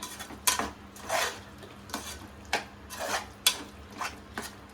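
A spoon stirs chicken macaroni with mint leaves and coriander in a pan over high flame, scraping and clinking against the metal about six times in a slow, even rhythm, close and fairly soft.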